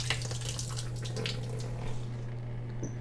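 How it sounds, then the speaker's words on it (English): Water drains steadily from a shower faucet, a continuous close hiss of flowing water with a low hum beneath it. "You can see the rest of the water is draining."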